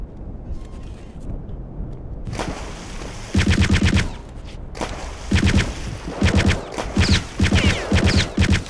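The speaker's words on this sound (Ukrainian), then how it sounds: "Снайпер, здається, палить по мені." Sniper and weapon fire in Return to Castle Wolfenstein (2001), a shooter video game: a quieter opening, then loud, close gunfire in repeated sharp bursts and rapid volleys.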